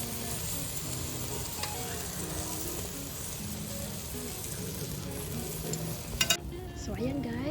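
Tuna steak and shrimp with garlic and herbs sizzling on a grill, a steady loud crackling hiss with a few brief scrapes, while a person talks faintly over it.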